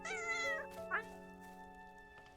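A cat meowing in the video game Little Witch in the Woods, one long clear meow followed by a shorter one over steady game background music.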